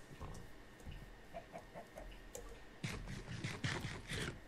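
Chickens cluck in a Minecraft-style survival video game, a few soft scattered clucks at first, then a busier, closer burst of clucking over a faint, steady background with no talk.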